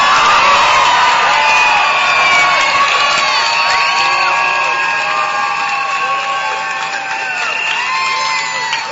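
A rally crowd at the State Capitol in Sacramento cheers, whoops and shouts steadily and loudly throughout, a dense sustained roar of many voices with applause mixed in.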